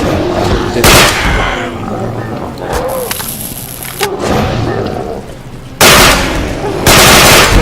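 Automatic gunfire from a weapon in the Garry's Mod nZombies game, loud bursts with a long rapid stretch, gaps between them and someone talking over the shots.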